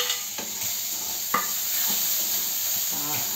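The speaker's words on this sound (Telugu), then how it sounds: "దీనిలోనే మనం ఈ ఉడకపెట్టుకున్న ఇది గోరుచిక్కుడుకాయ ముక్కలు కూడా వేసేసుకుందాం" Boiled cluster bean pieces dropped into cluster bean curry in a hot pan, giving a loud steady sizzle with a few sharp stirring scrapes and clinks close up, and no talk.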